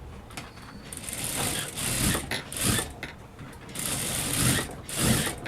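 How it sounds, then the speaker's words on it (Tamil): Sewing machine running single-stitch on a blouse lining, in several loud bursts of rapid rattling whir with brief pauses between runs. "நான் சிங்கிள் தையல் மட்டும்தான் ஸ்டிச் பண்ணுறேன்"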